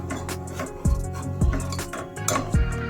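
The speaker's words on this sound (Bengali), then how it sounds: "হালকা হালকা ভাবে দুধটাকে নাড়াচাড়া করতে থাকবে যাতে নিচে লেগে না যায়" A spoon stirs milk in a pot over low flame, knocking against the metal in a few distinct clinks roughly every half second over a soft swirling background, close and fairly clear, with no voice.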